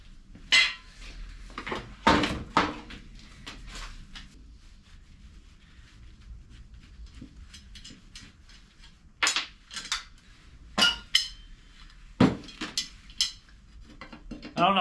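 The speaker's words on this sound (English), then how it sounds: "So I'm taking off the steel handles really quickly." Steel handles being taken off an aluminum pot, with scattered sharp metallic clinks and clanks separated by quiet gaps, fairly close and moderately loud, with a voice talking faintly in the background.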